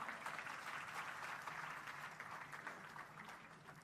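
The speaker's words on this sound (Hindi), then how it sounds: "एक बार ताली बजाइए असुर के नाम पर।" Audience applause during a Hindi spiritual discourse, a steady wash of many hands clapping throughout, moderately distant and fairly quiet, with no talking over it.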